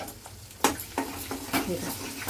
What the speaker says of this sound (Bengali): এবার এর মধ্যে আমি 1 চামচ আমি টমেটো পিউরি দিয়ে দেবো, দিয়ে একটু নাড়াচাড়া করে নেবো।